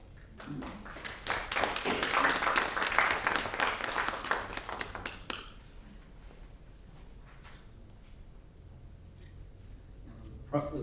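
An audience claps after a poem is read at a visiting writers' reading, a burst of dense applause that swells and then fades out about halfway through, leaving quiet room tone.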